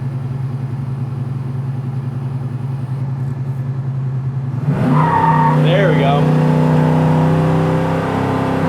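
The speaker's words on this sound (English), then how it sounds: "One more takeoff in the old Galaxie." A 1964 Ford Galaxie 500 engine idles with a low steady drone, then roars as it accelerates hard, revving higher with a brief tire whir; a voice speaks briefly.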